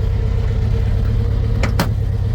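A kei truck with a swapped-in motorcycle engine drives along, a steady loud close engine drone with a rough low rumble throughout, and two brief sharp clicks near the end.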